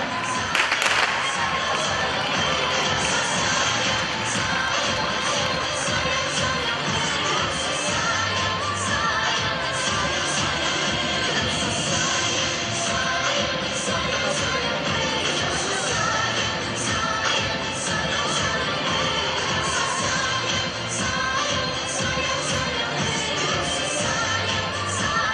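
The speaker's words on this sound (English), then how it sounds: "Big round of applause for everyone here." A large crowd at a fashion show cheers and claps continuously with dense, loud noise, occasional shouts rising above the steady roar.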